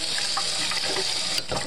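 Running tap water splashes steadily into a sink as a lemon is rinsed, a continuous close hiss with a brief louder gush near the end.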